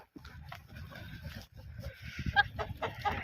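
A hen clucks in short, uneven bursts close by, with other farmyard noise and faint chatter in the background.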